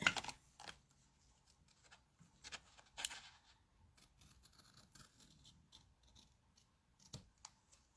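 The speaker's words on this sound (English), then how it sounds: "I just cut them a little bit to bring some of the bulk off." Scissors trim paper for a scrapbook cover, making quiet, scattered snips and light rustling in a hushed room, with a few sharper cuts spaced apart.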